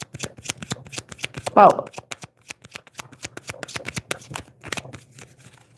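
Tarot cards are shuffled by hand in a dense run of crisp, close riffling snaps and flicks. There is a brief rustle partway through, and a voice speaks a word.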